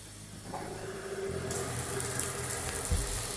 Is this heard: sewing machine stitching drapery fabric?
no